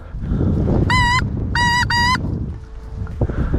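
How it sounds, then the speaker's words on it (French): Wild geese fly over the bay of Mont Saint-Michel, sounding three loud nasal honks in quick succession above a steady bed of wind noise. "ce sont des oiseaux vraiment méfiants, donc très difficiles à chasser"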